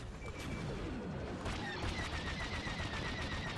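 Starfighter weapons in Star Wars Battlefront 2 fire in a rapid, dense barrage of blasts and impacts, loud and continuous over the engine roar of a space dogfight.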